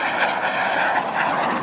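Aermacchi MB-339 jet trainer making a sustained 360-degree turn at the Dubai Airshow, its engine a loud, steady roar throughout, with no speech over it.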